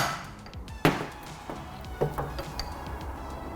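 Center punch struck with a hammer against a stainless steel part in a workshop, giving a sharp metallic tap near 0.85 s and a lighter one near 2 s, with faint clinks and ambient noise between.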